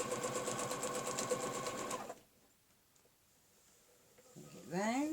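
A sewing machine stitches a quilting ruler pattern in a steady rapid run, stops, and then starts again briefly. A voice speaks in the background.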